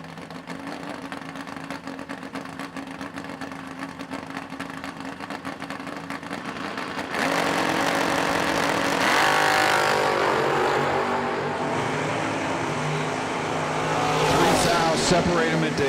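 Drag race cars, among them a 1969 Camaro, launching side by side at a drag strip: a steady engine drone at idle, then a sudden loud roar as the cars leave the line, with rising engine notes and an announcer's voice over the noise.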